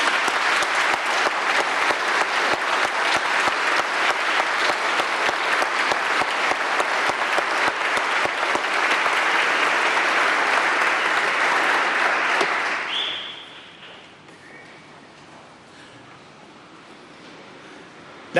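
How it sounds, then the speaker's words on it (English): An audience at a police awards ceremony gives sustained, even applause for the recipients, then it fades out into quiet room tone with faint voices. "How about a round of applause for our recipients?"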